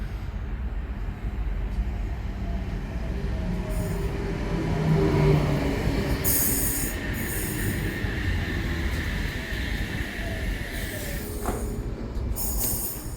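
A Sydney Trains Oscar H-set electric train at Albion Park station on the South Coast Line gives a steady, loud rumble of wheels and motors, with faint squeals and metallic clanks as it moves through the platform.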